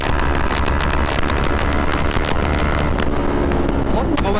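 A CF Moto NK400 V4 motorcycle engine accelerating in sport mode, a dense, steady engine roar heavily mixed with rushing wind buffeting the microphone throughout.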